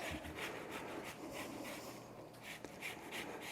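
A lemon being zested with a handheld zester, giving soft repeated rasping strokes in a steady rhythm, close and fairly quiet in a home kitchen while a sweet potato casserole is made.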